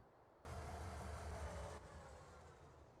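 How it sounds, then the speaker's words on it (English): Train in Farming Simulator starting abruptly with a loud rumbling roar, then easing to a steadier lower rolling noise, close by and without speech. "Oh, the train's coming back."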